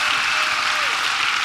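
A conference crowd cheers and applauds for four panelists on stage, a dense, steady wash of clapping and whoops that stays loud throughout.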